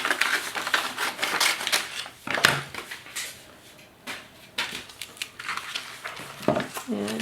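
Scissors snip through paper for a scrapbooking page, making crisp, close cuts mixed with paper rustling and handling noise, in uneven bursts over several seconds.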